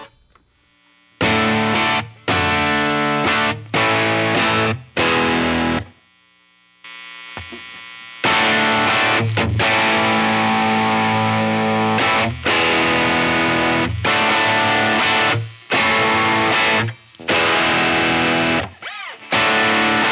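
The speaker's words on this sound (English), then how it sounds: "let's go back to noon on everything and we'll engage the high gain" Electric guitar played through a Lytt Effects Rosie pedal on its high-gain setting with all knobs at noon, giving loud distorted chords in choppy bursts separated by short gaps, with a mains hum audible underneath.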